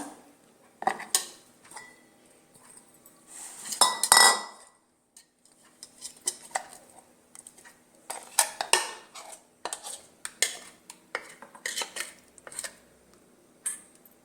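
Thick, finely ground moong dal batter is scooped into a vessel, with close, intermittent clinks and scrapes of a utensil against metal and a brief louder burst of handling midway. No one talks.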